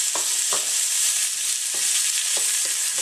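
Green beans fry in a pan over raised heat, a steady broadband sizzle running throughout with a few soft knocks of stirring scattered across it, close and fairly loud with no voices.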